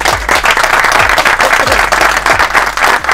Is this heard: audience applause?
yes